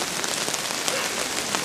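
Steady rain pattering on surfaces at an outdoor religious gathering on a mountain, an even, dense hiss of drops that is close and fairly loud, with no speech.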